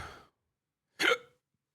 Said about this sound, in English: I got the Zen hiccups